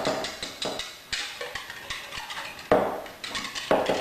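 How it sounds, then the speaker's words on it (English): Whisk or fork clattering against a bowl as four eggs are beaten with whole milk, a quick irregular run of close clinks and taps with short pauses, no talking. "I'm just beating those 4 eggs"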